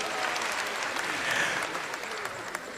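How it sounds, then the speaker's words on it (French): A crowd applauds the governor, a steady wash of clapping holding at an even level throughout, with no voices over it. "Applaudissez pour monsieur le gouverneur"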